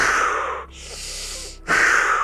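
Wim Hof breathing exercise during a yoga session: a loud, close, forceful inhale-and-exhale cycle, a long breathy rush, a short pause, then another strong airy breath.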